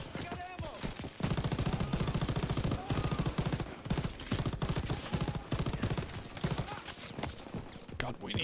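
Dense, rapid gunfire from the Call of Duty WW2 video game, with machine-gun bursts rattling almost without pause and a voice talking over the shooting.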